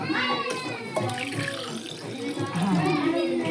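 Water splashes and pours steadily into a pot of rice for green chilli masala pulao while people talk over it nearby.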